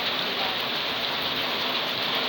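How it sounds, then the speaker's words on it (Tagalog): Heavy rain pours down steadily, a dense, continuous hiss of drops hitting surfaces nearby, with water splashing from a broken gutter, loud and unbroken with no voices. "ang lakas ng ulan ngayon guys"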